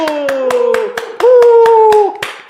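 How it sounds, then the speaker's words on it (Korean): Sharp, evenly spaced claps, about nine in a quick steady rhythm, greet a physical therapist guest on a live talk about pain during pregnancy and after birth, with a drawn-out voice sounding over them. "박수!"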